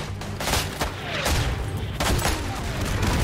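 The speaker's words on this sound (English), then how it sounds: "That was the plane bombing." Aerial bombing in the World War I video game Isonzo: a continuous barrage of loud, close explosions and gunfire rumbling together, with a few sharper blasts standing out.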